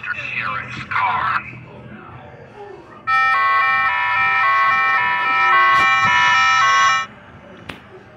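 A steady electronic police siren wails loudly for several seconds after a brief voice, then cuts off abruptly; it sounds like a toy or recorded emergency siren.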